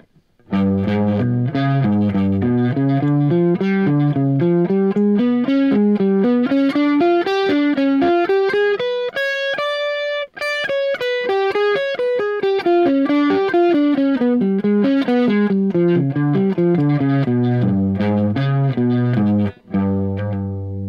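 Distorted electric guitar runs a fast, continuous tritone scale pattern climbing steadily up then back down, loud and unaccompanied.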